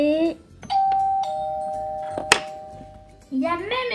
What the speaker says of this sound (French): je teste la sonnette